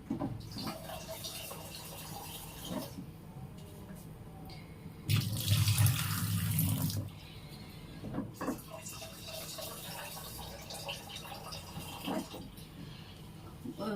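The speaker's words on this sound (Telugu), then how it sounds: "నేను ట్యాప్ కిందనే కడిగేస్తాను" A tap runs in a sink while rice is washed under it, bursting louder for a couple of seconds as water splashes, with quieter rinsing and clinks around it.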